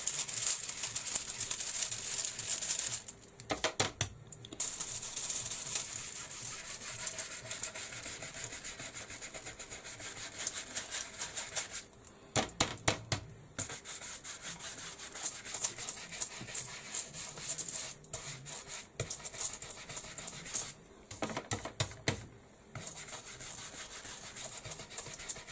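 Rice paper is rubbed onto a mixed media canvas in a continuous scratchy rustle of strokes, close and moderately loud, with a few brief pauses.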